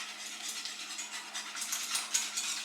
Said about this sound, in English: So I'm just going to whisk it